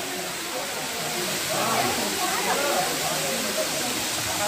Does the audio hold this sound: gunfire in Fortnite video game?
no